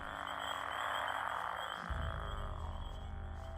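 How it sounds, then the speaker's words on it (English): Frogs croak loudly and continuously in the Gothic 2 game world, a dense chorus that deepens and swells partway through, with no talking over it. "Why are those frogs so loud?"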